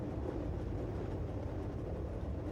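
A cog railway train grinds up a steep mountain track, its rack-and-pinion gears meshing in a steady, dense low rumble that holds constant and close throughout, with no voices.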